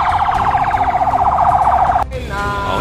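An ambulance siren wails loud and close in a steady repeating sweep, then cuts off abruptly after about two seconds, leaving quieter road and engine noise underneath.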